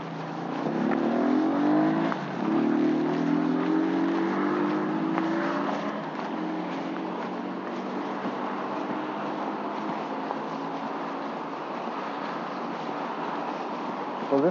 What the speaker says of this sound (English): Get away from the traffic.